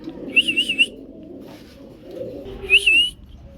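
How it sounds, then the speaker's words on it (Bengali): A female cream bar Budapest pigeon gives two short bursts of warbling, whistle-like cooing, heard up close and separated by a quiet pause with a low background hum. "দর্শক এখানে আছে একটা ক্রিম বার বুদাপেস্ট মাদি কবুতর"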